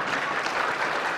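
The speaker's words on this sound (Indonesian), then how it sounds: "Tepuk tangannya aja lemes" A seated audience at a lecture claps half-heartedly, a thin, steady patter of hands with no cheering that runs on evenly and close throughout.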